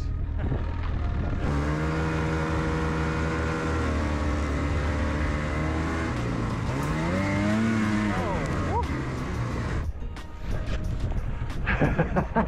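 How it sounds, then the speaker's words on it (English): A snowmobile engine runs steadily on a mountain, droning loud and close with rising and falling pitch, then cutting off before a clattering, rustling finish; people talk underneath. "I've been given controls of a snowmobile"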